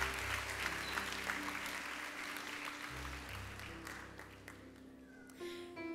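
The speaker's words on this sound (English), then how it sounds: "can we have another round of applause for Mr." An audience at an elementary school fifth grade graduation applauds for a fifth grade class, a soft, distant, steady patter of clapping underneath sustained low musical tones.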